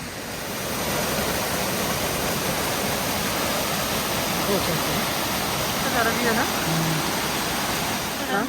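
A mountain stream at Naran Kaghan rushes past in a dense, continuous roar of flowing water, close and loud, with faint voices and brief background sounds near the end.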